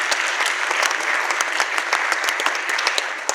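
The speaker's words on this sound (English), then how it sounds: "Give them a big round of applause." A theater audience at a live radio-play performance applauds steadily, dense sustained clapping filling the room with no talk over it.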